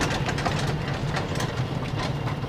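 A homemade mini hydraulic tipper lorry drives along with a steady, close, low engine rumble and continuous mechanical drone, no talk over it.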